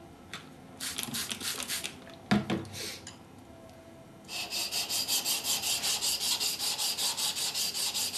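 European chisel honed on a whetstone: a few short scraping strokes at first, then a steady rhythmic back-and-forth rasp of steel on stone, close and clear with no talk.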